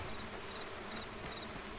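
Bees buzz around technological beehives in the video game Ghost Recon Breakpoint, a steady insect drone with a faint recurring high whine, continuous and moderately close, with no voices.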